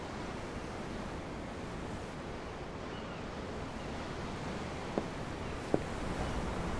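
Ocean waves in the video game Tales of Arise, heard from aboard a ship: steady broadband surf wash with no talking, plus two faint, brief clicks near the end.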